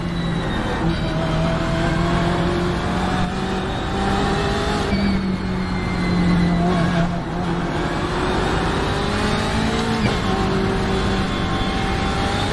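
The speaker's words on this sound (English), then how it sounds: "Slower class car ahead." Race car engines in an iRacing endurance event at Sebring, a BMW M8 GTE closing on a slower class car, drone steadily throughout with shifting engine pitch and brief revs, loud and continuous with no talk.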